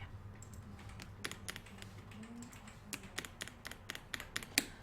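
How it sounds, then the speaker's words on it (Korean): Keyboard arrow keys pressed repeatedly, a series of sharp, close clicks in an uneven rhythm that grow more frequent toward the end, set against a quiet room with no speech. "요 아래 방향키를 6번 정도 눌러줄게요."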